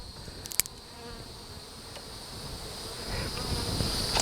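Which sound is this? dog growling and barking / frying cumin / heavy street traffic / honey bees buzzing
honey bees buzzing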